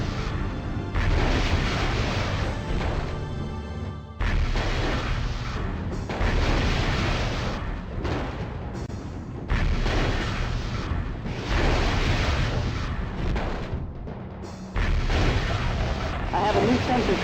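Incoming weapons fire and explosions in the battle game MechCommander form a loud, dense barrage. Long stretches of booming blasts and gunfire are split by brief near-silent gaps.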